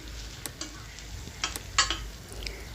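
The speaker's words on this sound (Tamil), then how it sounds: "இப்போ வெங்காயத்தை நல்லா வதக்குறேன்." Soft sizzling of onions sautéing in a pan with a few scraping, stirring clicks from a utensil, brief and close.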